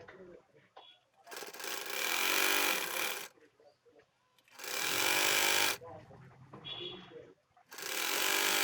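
A sewing machine top-stitches cotton fabric piping for a homemade bra, running in three loud, close bursts of steady whirring separated by quieter pauses with faint handling sounds.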